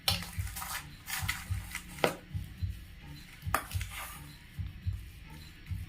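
Spinach and spice samosa stuffing stirred in a pan, with repeated soft scraping and clinks of a spoon against metal, quiet and close.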